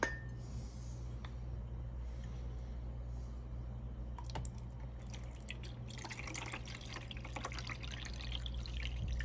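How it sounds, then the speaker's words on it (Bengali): Water pours into the water container of a home coffee machine, a soft steady trickle and splash over a constant low machine hum, with a few light clicks and taps of handling near the end. "এখানে এখন আমি পানিটা দিয়ে দিচ্ছি।"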